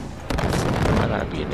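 A loud artillery strike explosion in Far Cry 4 lands abruptly and close, a heavy boom with crackling debris that rumbles on for about a second.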